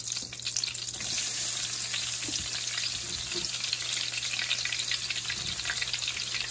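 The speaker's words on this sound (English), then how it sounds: "we're gonna put in our onions" Onions fry in a pan with a steady, close hiss and crackle that holds at an even level from start to finish, with a few faint stirring scrapes.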